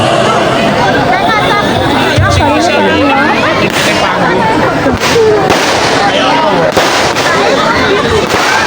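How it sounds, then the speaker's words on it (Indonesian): Dense, continuous crackling and popping bursts of a fireworks display at a village night carnival, loud and near, with a crowd chattering and voices over it throughout. "itu dia pesta kembang api dari masyarakat Dusun Pakeron"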